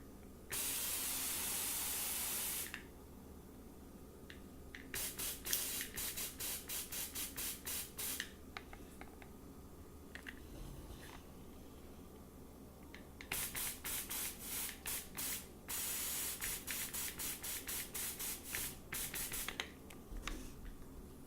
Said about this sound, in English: let's see how it behaves when you spray with water compared to sphagnum moss